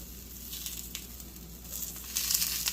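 Breakfast sandwich food sizzles in a cast iron skillet on medium heat, a steady close frying hiss with occasional pops that swells louder toward the end, no talk.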